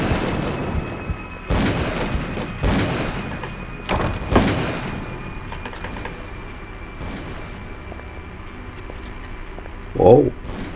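Gunfire rings out in Call of Cthulhu: Dark Corners of the Earth, a handful of sharp, booming shots spaced irregularly a second or two apart, each with a short decaying tail, while a player's voice talks intermittently over the game.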